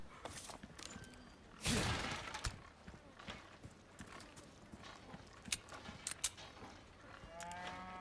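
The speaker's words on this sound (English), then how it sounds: "Such a loud cow." Within the video game Resident Evil 4 Remake, a cow's low moo sounds near the end among clip-clopping hoofbeats, a sudden loud burst and scattered sharp knocks of game noise.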